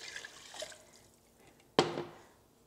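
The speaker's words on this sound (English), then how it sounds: "Add all of our water" Water poured into a soup pot on a stovetop burner for a barley, lentil and vegetable soup: a loud sudden splash near the end that settles into a fading wash, after quieter clatter.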